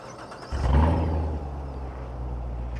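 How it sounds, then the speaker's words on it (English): A 2019 Chevrolet Corvette engine starts remotely with a sudden starter whir that catches into a loud, revving rumble. It then settles to a steady, close idle, with no voices. "I'm going to start off with remote starting it."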